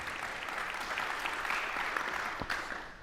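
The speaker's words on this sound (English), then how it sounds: "that definitely deserves a round of applause" A crowd applauds, a dense steady wash of clapping at moderate distance lasting throughout and fading slightly at the end.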